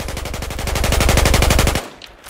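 Rapid automatic weapon fire in Battlefield 4, a steady burst of roughly twenty evenly spaced loud shots aimed at a target, cutting off abruptly into quiet.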